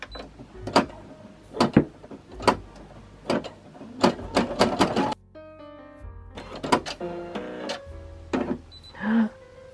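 A home embroidery machine stitching out a custom design: repeated sharp mechanical clicks and needle strokes in an uneven rhythm, close and moderately loud, with a short run of steady electronic beeps near the end.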